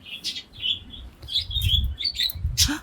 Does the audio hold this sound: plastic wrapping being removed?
no